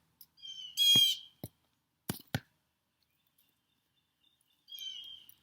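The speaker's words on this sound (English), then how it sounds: "oh, there's a blue jay over there." A blue jay calls outdoors in a spring garden with damp soil after rain, giving two bursts of harsh, bright cries separated by a few short clicks and a long quiet gap.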